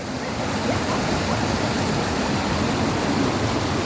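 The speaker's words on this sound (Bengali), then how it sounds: "এই যে এখানে জলটা সাউন্ড আসছে" Belpahadi waterfall in Jhargram, West Bengal, where river water pours over rocks: a dense, continuous rushing roar, close and loud, steady throughout with no gaps.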